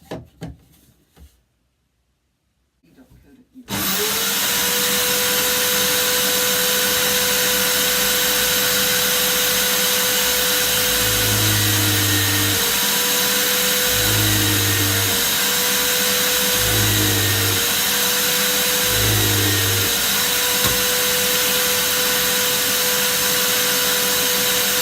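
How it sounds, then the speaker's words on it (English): A power drill fitted with a depth stop bores into the wood while the inside of a wooden fiddle is carved out. A loud steady motor whine runs throughout, with repeated heavier bursts as the bit cuts into the workpiece. "I'd set the drill up with a depth stop"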